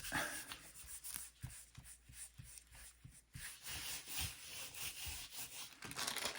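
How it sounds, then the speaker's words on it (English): Fingers rubbing over the holes of a stencil in a mixed media art piece, a close, dry, scratchy scrubbing made of repeated short strokes in an uneven rhythm, with no voices. "put my fingers in the holes in the stencil and rub it"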